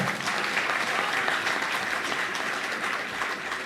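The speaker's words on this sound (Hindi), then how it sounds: "एक बार जोरदार ताली अपने लिए बजाओ।" A crowd of listeners at a Holi humorous poetry gathering (hasya kavi sammelan) claps loudly and continuously, a thick sustained wash of applause filling the whole stretch without speech.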